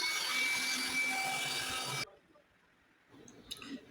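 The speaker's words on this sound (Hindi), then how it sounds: "अब इसको हम ब्लोअर से सुखा लेते हैं अच्छी तरह से।" Air blower drying the stator slots of a Crompton 5 HP three-phase motor during rewinding, a loud hissing rush for about two seconds that cuts off abruptly, followed by faint handling sounds.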